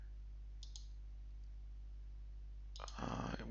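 A computer mouse clicking in a quiet room over a steady low hum, with two faint clicks early and two more near the end before a burst of louder noise.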